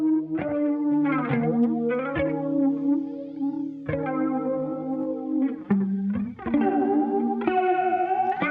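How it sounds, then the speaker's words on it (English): Electric guitar through a flanger effect, swirling, sweeping modulation, chords and single notes ringing with a slightly gritty, wavering shimmer; no talking. "the flange of the guitar is very subtle"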